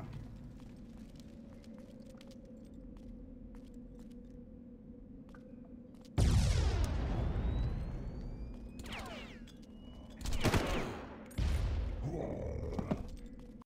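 Enemy gunfire striking the player in the Far Cry video game: sudden loud bursts of shots and impacts break over a low rumbling ambience, then a second flurry of hits and cracks follows several seconds later.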